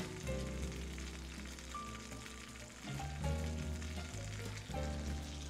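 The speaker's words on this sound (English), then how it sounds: "That's a good sizzle." Steak searing in a hot kitchen pan beside potatoes, a steady close sizzle and crackle with small swells as the meat shifts, heard without any talking.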